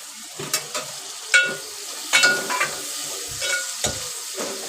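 Tomatoes sautéing in a pan for chicken rassa, a constant sizzle with irregular spatula scrapes and knocks against the pan, close up and with no talking.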